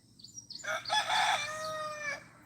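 A Silkie and Americana mix rooster crows once nearby, a loud drawn-out harmonic call that follows a few quieter clucks.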